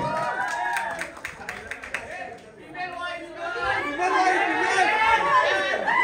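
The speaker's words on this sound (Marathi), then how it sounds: "जोरदार टाळ्या याच्यासाठी वाजूया आपण" Crowd clapping at a Marathi song launch event with reel stars, vloggers and singers, scattered claps swelling into fuller applause mixed with loud chatter and excited voices.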